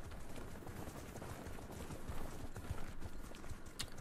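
Horses gallop in a battle strategy game, a steady dense clatter of hooves running continuously and fairly loud throughout, with no voices over it.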